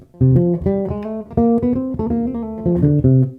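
A quick, fluid melodic line on bass guitar, the opening phrase of a solo, notes darting up and down in a bebop-style run, alone and clear.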